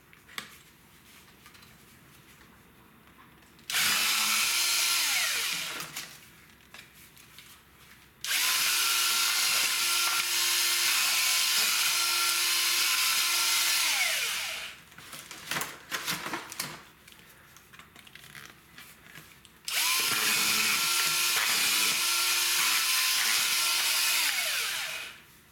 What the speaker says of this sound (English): Same cutting with the Bosch.